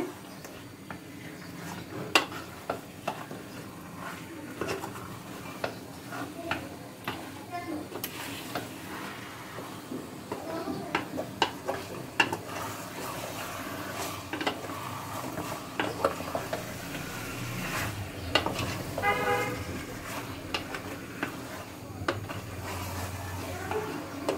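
Beef curry is stirred in a pan with a spatula, giving irregular scraping and clinking against the metal along with a faint sizzle. The steady low kitchen hum underneath is moderately quiet, and a voice is heard occasionally.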